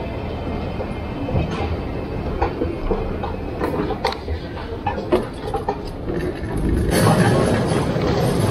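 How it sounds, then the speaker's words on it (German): Rail traffic at Hannover main station, with a steady rumble and clatter from trains on the platforms, some scattered clanks, and a louder swell of noise near the end. No voices are heard. "hier, mein Zug, der wartet schon auf mich"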